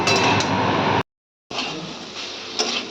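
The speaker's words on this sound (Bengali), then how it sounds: "নুন আর হলুদ দিয়ে খুব ভালোভাবে সবজিটাকে একটু" Long beans frying in a pan with salt and turmeric make a steady broad sizzle, broken by light clinks of a stirring utensil and cut off briefly by half a second of silence before resuming.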